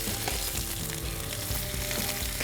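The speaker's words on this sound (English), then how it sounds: "As you can hear the sizzle," Peppers and onions sizzle loudly and steadily on a hot fire disc, a dense continuous crackle with no talking.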